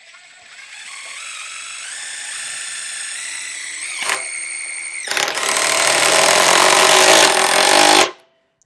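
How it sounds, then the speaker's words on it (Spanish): A compact DeWalt impact wrench drives a short screw, starting with a steady motor whine that builds, then a brief pause before a loud, dense burst of rapid impacts that cuts off sharply, recorded close with no talking. "Vamos a hacer la misma prueba pero con un tornillo más corto"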